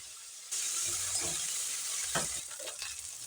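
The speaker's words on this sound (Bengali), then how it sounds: "ফুলকপিটা আগে দিয়ে মিনিট দুয়েক মতো নাড়াচাড়া করে নিয়ে তারপর বাদবাকি সবজিগুলো দেব" Cauliflower florets hit hot oil in a pan with a sudden loud hiss, and the sizzle holds steady while a spoon stirs and scrapes through the pieces a few times.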